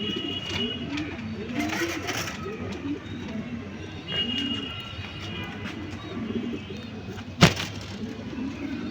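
Racer pigeons coo in low, rolling phrases that repeat through a busy pet market, with faint chirps, background chatter and a sharp knock near the end.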